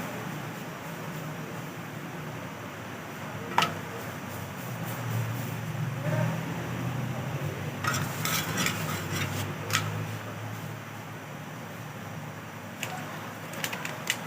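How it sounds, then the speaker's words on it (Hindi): Flatbread browning in a pan for chicken wraps gives a soft, steady sizzle with scattered clinks and scraping from utensils against the pan, moderately close and with no talk. "और दूसरी ब्रेड डाल दी मैंने, इसको भी ब्राउन कर लेंगे।"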